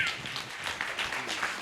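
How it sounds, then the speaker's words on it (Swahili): A church congregation at C.R.J Church Kayole Junction applauds, a fairly quiet, dense patter of many hands clapping steadily throughout. "Makofi mazuri jameni"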